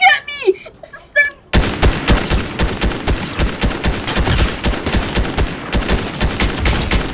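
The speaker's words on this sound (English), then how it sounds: "This guy's shooting at me." Fortnite gunfire, a loud, fast automatic burst of evenly spaced shots running for several seconds right after a short blip of game sounds, with no talking over it.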